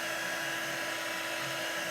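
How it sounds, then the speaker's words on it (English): A handheld embossing heat tool blows a steady, unbroken rush of hot air over a chalk-painted pumpkin sign, its whirring fan noise constant and close throughout. "I'm using a heat tool, and this is normally used for embossing."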